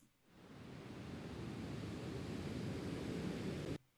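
Steady ambient beach wash of waves and surf, a broad continuous roar that fades in and holds level before cutting off, no voices.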